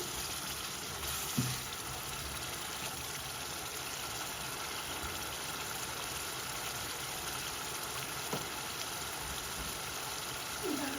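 Amra (hog plum) being sautéed with spices in a pan for a Sylheti fish tenga curry, a steady low sizzle and frying hiss running throughout, with a few soft stirring knocks.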